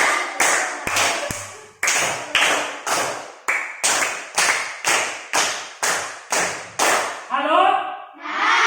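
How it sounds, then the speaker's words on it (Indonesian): Schoolchildren in a classroom clap together in a rhythmic counted pattern, loud sharp bursts repeated in even groups, ending with voices chanting together. "Tepuk tangan"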